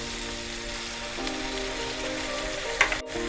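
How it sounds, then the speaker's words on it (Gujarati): Chopped tomato dropping into browned onions frying in a pan, a steady close sizzle with a brief sharp clatter near the end and no voices. "તો હવે આપણે ટમેટું નાખશું"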